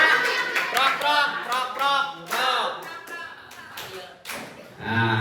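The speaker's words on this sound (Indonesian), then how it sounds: "Tepuk 1. Tepuk 2. Tepuk 3. Tepuk 4. Tepuk 5." Group clapping a counted rhythm at an Indonesian educational gathering, with sharp claps scattered between voices chanting the count aloud.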